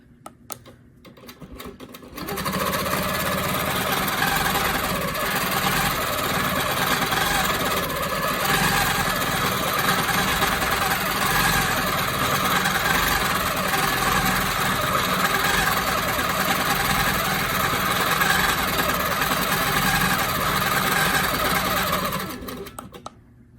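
A sewing machine runs continuously for about twenty seconds during free-motion quilting of a ribbon candy pattern. Its close, steady whir has slight changes in speed.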